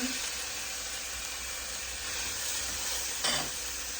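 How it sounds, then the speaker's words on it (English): Mushrooms sizzling in a hot pan for vegetarian pancit canton, a steady, even hiss with a brief louder burst near the end, close and continuous. "I'm going to go ahead and put the mushrooms in now so they can start cooking"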